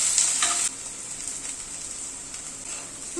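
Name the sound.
ginger paste, garlic and green chili frying in pan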